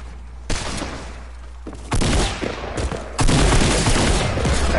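Rapid bursts of gunfire in a Fortnite match, with dense overlapping shots that come in loud waves and get louder toward the end.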